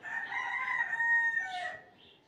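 A rooster crows once in a rural village yard, a loud, near, drawn-out call with a rising then falling tail.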